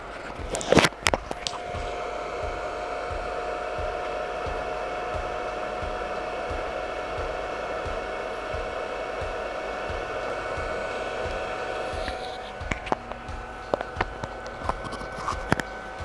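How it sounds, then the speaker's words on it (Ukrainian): A steady, broadband whirring hum of the small cooling fan in a Procraft PZ10M inverter car battery charger runs continuously, with a few clicks and taps at the start and near the end. "чуємо навіть по звуку, як у нас гудить кулер"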